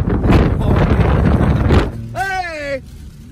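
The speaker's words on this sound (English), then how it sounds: "It's so windy." Strong gusting wind buffets the microphone outdoors at Big Bear in snowy mountain conditions, loud and roaring for about two seconds, then drops away as a voice exclaims.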